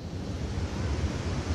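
River water rushes below Ashburnham Dam at somewhat low level but still moving well, a steady broadband roar with some wind buffeting on the microphone and no voices.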